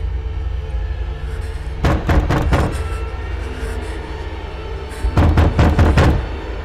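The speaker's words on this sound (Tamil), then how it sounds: "யோ நீ ஏன் கதவு தட்டுற?" A door in a comedy film scene is knocked on in two bursts of four or five loud, quick raps, separated by a few seconds of low hum.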